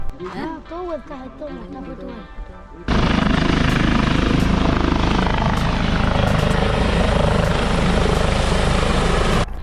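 A loud, steady helicopter roar with chopping rotor noise takes over abruptly after a few seconds of voices and continues close overhead.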